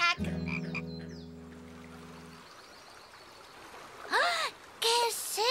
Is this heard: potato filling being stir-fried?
no